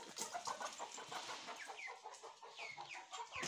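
Faint, soft clucking from a fancy-breed hen close by, repeated murmurs in a quiet setting as she is lifted off her eggs.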